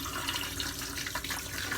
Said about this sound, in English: you don't have to hear the water running